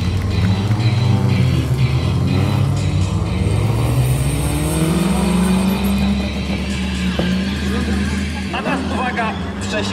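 A stunt car driven on two wheels at an auto stunt show, its engine droning steadily and loud throughout with rising and falling pitch, under constant announcer speech and crowd noise.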